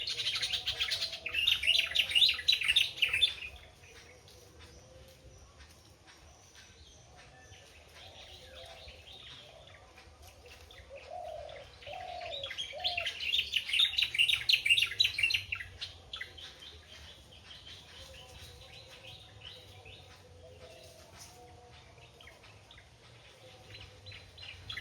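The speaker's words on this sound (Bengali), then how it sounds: "বাঁশ জঙ্গলে খুব সুন্দর পাখির আওয়াজ শুনলাম।" Birds call in a bamboo forest, two bright bursts of rapid chirping and twittering a few seconds each, with quieter calls and soft ambience between them.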